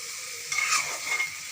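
Masala for a Bengali jackfruit and shrimp curry fries with a splash of water, giving a short, steady sizzle with a brief stirring scrape in the middle.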